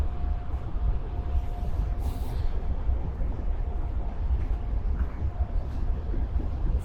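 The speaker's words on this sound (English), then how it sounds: "we can hear the train going in the back" A steady low rumble of an old train rolls along continuously at a moderate distance in Pskov, Russia, with a faint whine and occasional squeaks over it.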